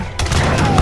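A single gunshot in the Age of Empires III strategy game hits abruptly and loudly, then its blast rolls on as a dense, sustained roar for the rest of the short moment.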